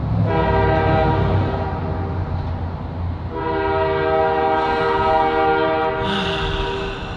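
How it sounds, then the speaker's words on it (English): A train horn blares loudly and continuously for several seconds, briefly dipping and resuming, over the rumble of a train rolling past nearby. "maybe I'll listen to the train for a bit."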